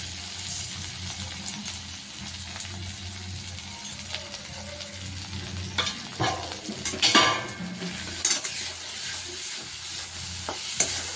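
Spices frying in a pan for a paneer dish with tomato and garlic, a steady close sizzle under repeated scraping stirs, with louder clattering strokes near the end and no talk.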